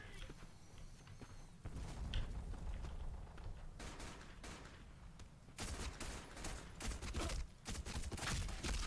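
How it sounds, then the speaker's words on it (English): Pistol shots from the online shooter Black Squad, fired at long range: a busy stretch of sharp cracks and bursts, loudest and densest in the second half, with game noise underneath. "Alright, long distance pistol kills."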